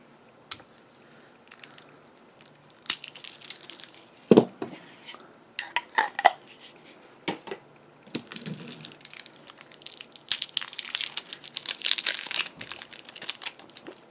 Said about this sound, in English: here's my trusty Swedish knife. I'm going to cut that carefully away from myself